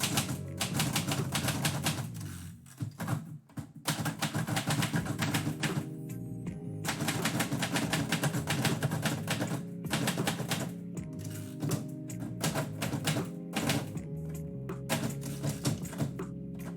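Keys struck on an index typewriter, a rapid, irregular run of sharp mechanical clacks with brief pauses between bursts, heard close and alone.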